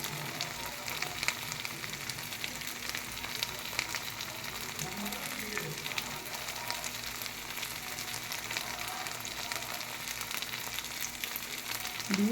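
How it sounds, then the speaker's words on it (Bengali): Eggs fry in a spiced masala for egg kalia, an even, moderately quiet hiss of sizzling that stays constant throughout. "এটাকে ভালো করে মশলার সাথে কষে নিতে হবে"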